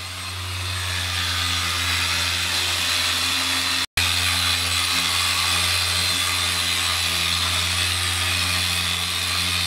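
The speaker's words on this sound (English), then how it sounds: "A man and his buffing wheel." Steady loud whir of a buffing wheel polishing the edges of a motorcycle seat base in a workshop, a continuous motor drone with a brief cut partway through, no talking.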